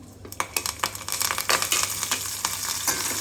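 Curry leaves crackle and sizzle as they drop into hot oil while kallan kara chilli masala is prepared, a close burst of spitting pops over a steady frying hiss.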